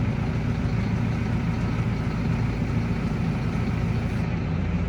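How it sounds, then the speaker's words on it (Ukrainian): A tractor engine idles steadily and loudly nearby, a dense, constant low rumble with no pauses, on a farm setting for spraying wheat. "Так, що запустимося, зараз хай ще продує."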